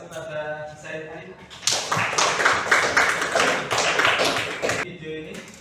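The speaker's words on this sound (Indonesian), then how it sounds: "Kita beri aplaus kepada Said Ali." A classroom of students breaks into lively applause for a classmate, a dense, close clatter of many clapping hands lasting about three seconds, with a voice speaking just before it starts and again as it ends.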